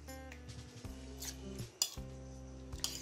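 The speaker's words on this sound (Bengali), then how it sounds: "আর এই টক দইটা দিয়ে আমি চিংড়ি মাছটাকে ভালো করে মিক্স করে নিচ্ছি।" A spoon mixes shrimp with sour yogurt in a bowl, making light metallic clinks and ringing knocks against the dish. The sounds come at irregular intervals, close and fairly quiet, with no one speaking.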